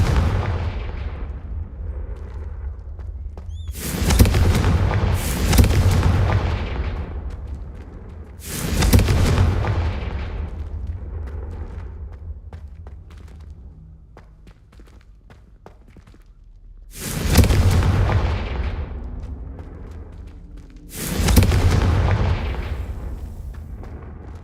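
Confringo fire spells cast in the video game Hogwarts Legacy, five loud booming blasts spaced several seconds apart, each decaying into a rumbling tail with quieter footsteps and ambience between.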